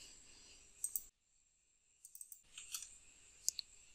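Faint computer keyboard and mouse clicks while selecting files, a few sharp taps in two short bursts split by a second of silence, close but quiet.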